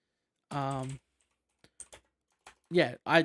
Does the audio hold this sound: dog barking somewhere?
no